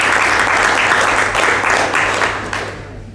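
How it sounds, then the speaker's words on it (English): A crowd applauds at the 39th Contracting Squadron's assumption of command ceremony, steady dense clapping that fills the room and then tapers off toward the end. "Please join me in a well-deserved round of applause."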